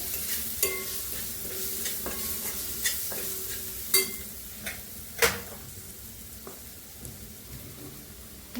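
Whole masoor lentils and snake gourd are sautéed in a pan, a soft continuous sizzle punctuated by repeated sharp scrapes and clacks of a spoon stirring against the pan, with no talking.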